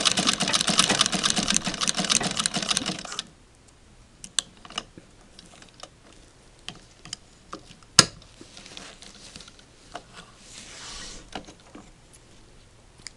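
A White Family Rotary sewing machine stitches a zig zag seam at high top-thread tension, a loud, fast, steady mechanical chatter for about three seconds, then stops, leaving faint clicks and handling noises.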